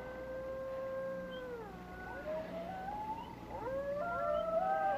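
Several wolves howl together in the dark, long wavering wails that rise and fall and overlap, fairly loud and steady over a low background hum, with no talking.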